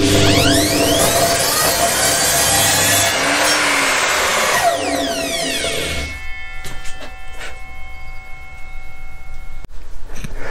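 A power saw cuts through plywood for about six seconds, a steady loud buzzing whine, then stops, leaving quieter clattering and handling noises in a workshop.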